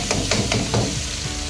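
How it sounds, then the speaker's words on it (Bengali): Tomatoes and green chillies fry together in a pan, giving a steady close sizzle with a few soft stirring scrapes and no voices. "টমেটো, কাঁচা লঙ্কা একসাথে দিয়ে সেগুলোকে ফ্রাই করব খুব সুন্দরভাবে ফ্রাই করব।"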